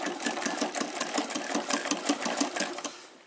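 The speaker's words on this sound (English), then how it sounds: "So this here is a treadle. I love the treadle because you've got so much more control with it." A Singer 319/306K sewing machine driven by a treadle runs with a fast, steady mechanical clatter of rapid stitches, close and continuous, before slowing and trailing off at the end.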